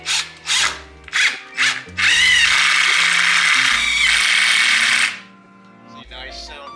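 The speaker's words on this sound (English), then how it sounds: "nice sound to hear with it impacting into the stud" A power driver sinks a screw into a wall stud during a garage renovation: a few short revving bursts, then a loud, close, sustained whirring drive of about three seconds that stops abruptly.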